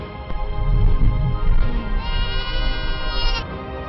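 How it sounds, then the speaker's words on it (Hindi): A herd of about 125 goats and sheep bleating in the mountains of Ladakh, with loud, close, overlapping wavering cries filling the whole clip. "125 के करीब बकरियां और भेड़ें"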